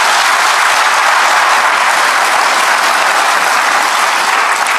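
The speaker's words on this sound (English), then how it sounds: "I imagine, it's worth applauding." A large university audience breaks into loud, dense applause, a steady continuous roar of clapping heard close and without any voices over it.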